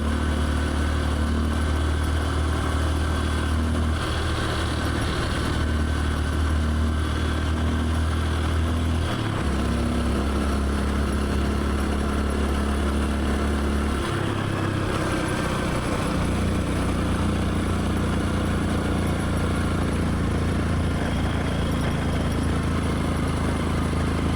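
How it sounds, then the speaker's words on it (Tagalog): A motorcycle engine drones at night around 1 AM, a low continuous hum with slight shifts in pitch as it idles and moves, steady and fairly loud throughout with no voices. "nagmo-motor-motor si Sardonsky, 1 AM"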